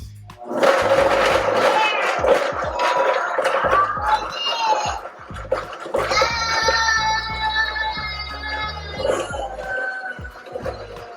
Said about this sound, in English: I hope that our circuit doesn't die from having the Instant Pot and the blender going at the same time